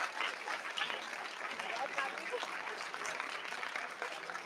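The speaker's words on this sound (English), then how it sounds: "Keep clapping till they settle down." Audience applause fills an auditorium at a national science camp, a steady sustained patter of many hands clapping at moderate distance, continuing without a break.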